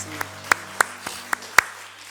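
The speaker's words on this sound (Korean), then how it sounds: "우리 같이 축복의 박수 보내겠습니다." Scattered hand claps break out from a church congregation during a Sunday service at a Korean church. About six sharp, sparse claps sound over a low steady hum, like applause only just starting.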